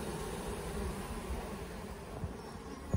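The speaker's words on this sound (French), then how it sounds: "on voit les abeilles qui rentrent" A dense, steady hum of many bees returning to the hive, buzzing close by, a continuous droning swarm with no voices.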